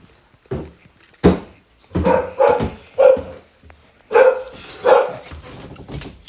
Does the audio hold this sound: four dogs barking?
yes